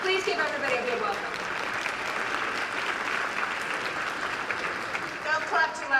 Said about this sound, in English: Don't clap too loudly though, because there are people here who have hangovers